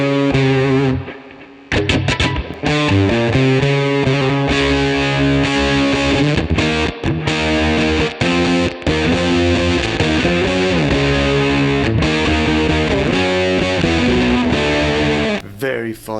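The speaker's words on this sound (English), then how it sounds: "So now, when we add gain, we're going to get some fuzz." Electric guitar played through a Gokko fuzz pedal with the gain turned up, giving a thick, broken-up distorted tone; loud sustained chords and notes with brief pauses between phrases.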